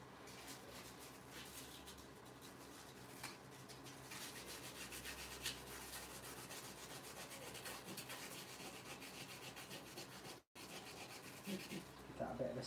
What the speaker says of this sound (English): give that a bit of a sand in the base.